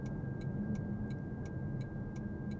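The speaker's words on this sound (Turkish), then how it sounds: "Dörtleri yaktı. Araç yavaşlıyor." Hazard lights on a 2024 Toyota C-HR tick in an even, steady rhythm, about eight clicks, inside the cabin over a low road and engine hum as the car slows.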